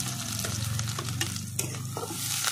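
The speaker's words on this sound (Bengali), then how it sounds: "তেলের পরে দেব কালো জিরে, কুচি করা রসুন, পেঁয়াজ কুচি আর লঙ্কা একসঙ্গেই দিয়ে দেবো" Black cumin, chopped garlic, onion and chilli sizzle and crackle steadily in hot oil, with occasional stirring scrapes across the pan, close and continuous throughout.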